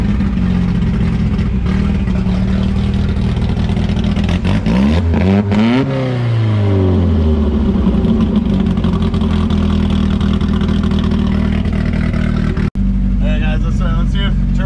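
A street drift car with a trumpet intake, revved near 7500 rpm, roars loudly and steadily at full throttle, its pitch dipping and climbing midway before holding high, then it cuts out abruptly near the end.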